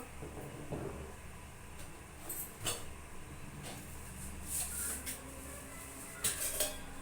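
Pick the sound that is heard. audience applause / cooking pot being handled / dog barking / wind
cooking pot being handled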